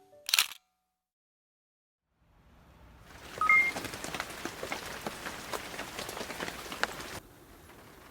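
Rain falls outside in a steady, soft patter with scattered individual drops, starting after a brief click and a stretch of silence, then stopping abruptly.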